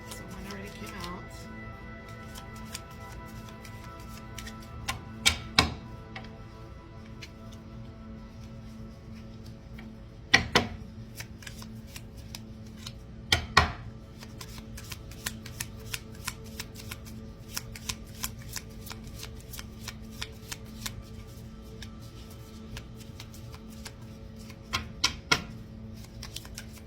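Tarot cards are shuffled by hand at close range, rapid riffling flutters in bursts with a few sharper slaps and taps of the deck, steady and fairly quiet throughout.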